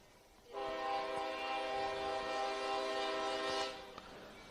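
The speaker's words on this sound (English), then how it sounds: "a train going by" A passing train during a Pirates versus A's baseball game sounds a long, steady horn blast lasting about three seconds. It is loud and clear over faint background noise, then cuts off.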